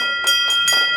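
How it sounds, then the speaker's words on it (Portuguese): A hospital victory bell rung to mark the end of a child's leukemia treatment, struck in a quick series of ringing, metallic strokes with sustained overtones, a voice faintly beneath. "E festa no Emoan significa tocar o sino da vitória."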